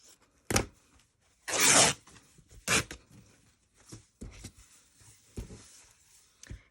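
Fabric torn into strips by hand, cut first and then pulled apart for a foot stool project: a few sharp ripping bursts, the longest a sustained tear lasting about half a second, with quieter rustling between.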